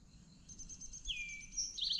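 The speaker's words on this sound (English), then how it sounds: "That's a downy woodpecker." A downy woodpecker gives a few thin, high calls at Peachtree Rock Heritage Preserve. The calls are faint and distant over a quiet outdoor background.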